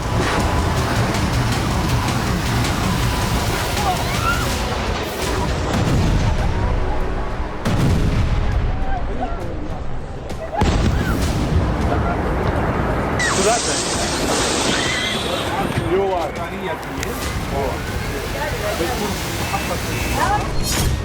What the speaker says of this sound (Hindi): रूस ने यहां तुलिप मोर्टार से हमला किया